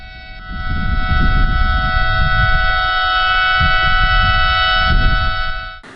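A loud, steady siren wails on a sustained tone for several seconds at an Indonesian Independence Day flag ceremony in Ogan Ilir, with low rumbling noise beneath it, then cuts off.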